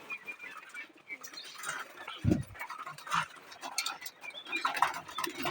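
Soft pigeon coos and bird calls in a busy outdoor setting, with brief rustling and a low thump partway through; no one speaks.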